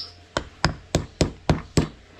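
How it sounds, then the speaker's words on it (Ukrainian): Six sharp hammer taps land at an even, unhurried rhythm on a hard surface, each a crisp knock with a quick decay, close and fairly loud. "Досочкою і молоточком легенько попідбивати сальничка з усіх сторін."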